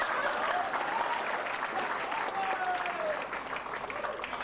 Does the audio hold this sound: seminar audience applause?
yes